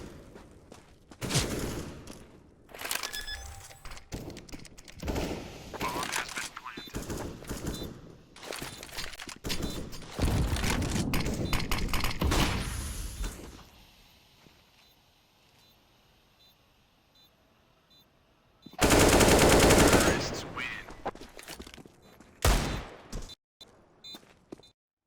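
AK rifle fire from a competitive video game match comes in repeated loud bursts and rapid volleys, with a quiet lull, then a sudden intense barrage and a few final shots.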